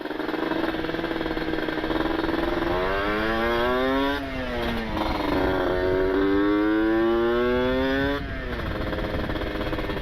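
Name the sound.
two-stroke motorcycle engine braking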